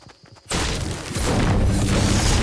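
A rocket explodes in a shooter video game with a sudden loud boom that hits after a quiet moment, then a dense, roaring blast and rumble that stays heavy and close until the end.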